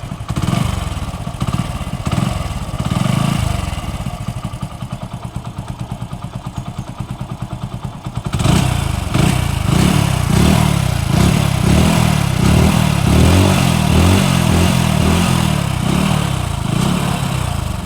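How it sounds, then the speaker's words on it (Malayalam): Used motorcycle for sale in Thrissur being started and left running: a loud, close engine idles with a steady rapid putter, then after a brief change settles into a rougher, throbbing idle, with no talking. "അപ്പൊ നമുക്ക് ഈ വാഹനം ഒന്ന് സ്റ്റാർട്ടാക്കി നോക്കി തൽക്കാലം അതിന്റെ ശബ്ദവും അത് കാര്യങ്ങളൊക്കെ ഒന്ന് നോക്കാം."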